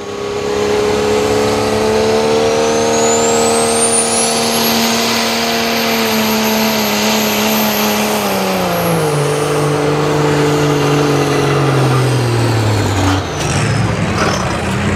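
A diesel pulling truck at a Columbus truck and tractor pull roars down the track, a loud sustained engine drone whose pitch climbs then sags as it bogs, with a high whine above and a sharp drop near the end.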